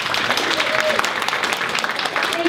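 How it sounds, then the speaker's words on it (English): An audience applauding at a stewardship society presentation, steady dense clapping from a crowd throughout the short stretch. "Big round of applause for it."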